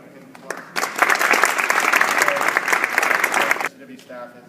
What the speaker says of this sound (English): let's give the team a hand of applause